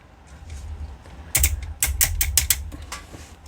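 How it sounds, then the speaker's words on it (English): The ratchet joints of a Magic Square MS-03 Heavy Gunner transforming robot figure give a series of sharp, close plastic clicks in quick uneven bursts, alone against a quiet background. "Nice tight ratchets"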